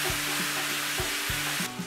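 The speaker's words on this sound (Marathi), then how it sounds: "आता व्यवस्थित एकदा परतवून घेऊया." Green chilli pieces, asafoetida, turmeric and soaked chana dal sauté in a pan, a steady close hiss of sizzling with a few soft low knocks of stirring, no voices.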